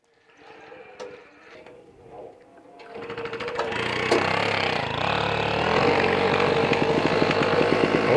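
A two-stroke diesel moped engine sputters, catches and starts, then runs steadily with a loud buzzing, rapid putter after a few quieter mechanical clicks.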